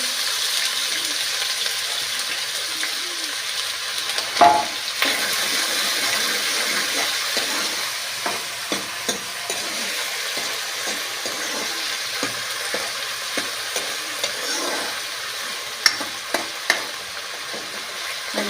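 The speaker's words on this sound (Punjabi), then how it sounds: "ਆਪਾਂ ਜੀ ਪਿਆਜ਼ਾਂ ਨੂੰ ਭੁੰਨ ਰਹੇ ਹਾਂ ਜੀ" Onions frying in hot oil in a pan while being stirred for a spinach and fenugreek curry, a steady loud sizzle with scattered scraping clicks of the spoon against the pan.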